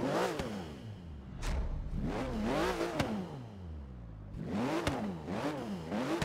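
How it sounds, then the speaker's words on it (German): Porsche GT2 RS in the racing game Forza Horizon 3, its engine repeatedly revving up and dropping back in several loud sweeping pulls with short pauses, no talking. "starten wir mal den Engine."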